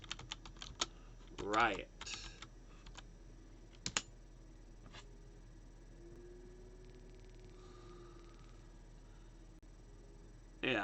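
Keys clack in quick, irregular bursts on a computer keyboard at close range, with pauses between runs and a low room hum underneath; a person speaks briefly in between.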